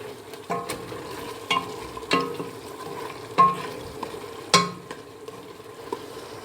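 Minced meat browning in a pan for an Algerian mtaoem meatball stuffing, with a soft steady sizzle broken by several sharp scraping stirs of the spoon at a close, even pace.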